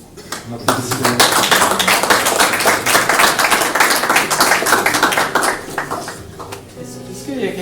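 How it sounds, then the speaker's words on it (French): A church congregation claps in a sustained burst of applause, many hands tapping loudly and fairly close, then the clapping thins out toward the end, with some talk mixed in. "On applaudit le Seigneur."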